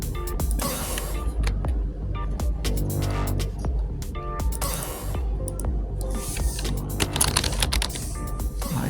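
Typing on a computer keyboard as text is entered into a Microsoft Word document. Steady, fast clicking keys run through the whole stretch, close and clear, with only brief pauses.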